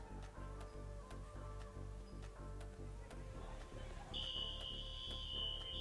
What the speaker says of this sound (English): Alarm went off, fire alarm that is